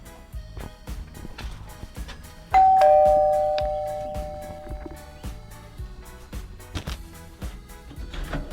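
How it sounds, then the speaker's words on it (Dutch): A two-tone doorbell chime rings once, clear and fairly loud, over steady rhythmic background music that keeps going throughout. "Nou, ik bel even aan."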